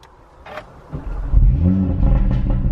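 A 2018 Audi RS3 (510 bhp) engine cranks with a brief starter whine, then catches and settles into a loud, deep rumbling idle, close by.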